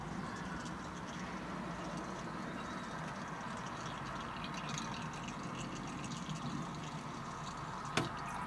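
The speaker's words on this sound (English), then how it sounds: "So I'm just going to sit here and let it drip." Hot sloe berry cordial drips and trickles through a strainer into a pan, a steady, soft, continuous watery hiss with one faint click near the end and no talk.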